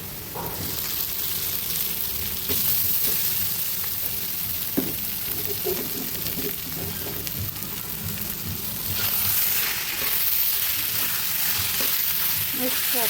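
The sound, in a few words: poha frying and sizzling in a pan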